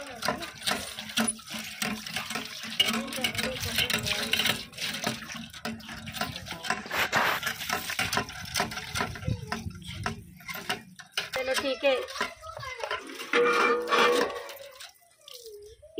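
Water from a pump splashes and gushes unevenly, pouring and dripping close by, with a varying flow and occasional louder surges.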